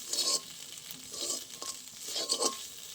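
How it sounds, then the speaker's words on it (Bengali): Flattened rice (chira) fries in a pan for chire pulao, with soft crackling sizzle and scraping stirring strokes that rise and fall in uneven bursts, close and fairly quiet. "একটু ভালো করে ভেজে নেব।"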